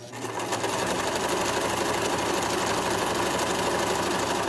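A sewing machine stitches a drawstring gift bag in one steady, continuous mechanical whir with a fast rattling rhythm, close and loud throughout.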